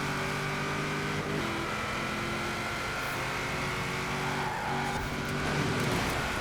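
Race car engines roar continuously in Forza Horizon 4 online racing, a Porsche Cayman and a Holden among the pack, with loud sustained engine drone, shifting revs and occasional tire noise, no talking.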